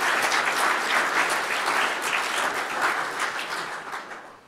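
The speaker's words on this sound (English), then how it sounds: "let's give him a round of applause anyway" Steady applause from an audience at a city State of the Address in Wixom, a dense continuous wash of many hands clapping that gradually fades toward the end.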